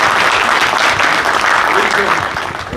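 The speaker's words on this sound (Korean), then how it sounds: "여러분 큰 박수 보내주시기 바랍니다" A crowd at a book launch event claps loudly to welcome an honoured guest to the stage, dense continuous applause that fades slightly toward the end.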